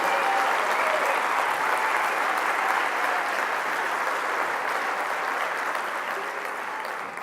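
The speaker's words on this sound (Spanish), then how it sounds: "Y un aplauso muy fuerte para Jesús, que va a ser el alcalde de esta ciudad de Alcorcón." Sustained applause from a large audience at a Spanish municipal political rally in Alcorcón, a dense steady wash of clapping that holds loud throughout and eases slightly toward the end.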